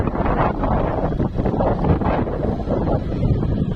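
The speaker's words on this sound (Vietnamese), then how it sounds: "gió này nó lên" Strong wind gusting outdoors, buffeting roar and rumble over the microphone that swells and eases throughout, loud and close.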